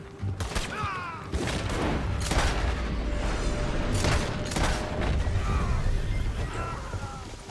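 Gunshots ring out in Red Dead Redemption 2 during a standoff with US Army soldiers, sharp cracks repeating irregularly over a rumbling background, loud and close.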